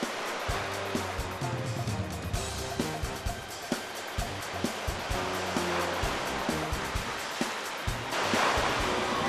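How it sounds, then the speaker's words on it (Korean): Waves surge and crash against a rocky Christmas Island shore, a loud rough wash of surf with repeated thuds and broadband spray rising toward the end, no voices. "순식간에 밀려온 파도."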